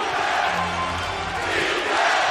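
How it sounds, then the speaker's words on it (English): A Toronto Raptors home crowd chants for defense during an NBA game against the Oklahoma City Thunder, a loud, steady roar of many voices filling the arena with rhythmic chanting under it. "listen to the crowd asking for defense"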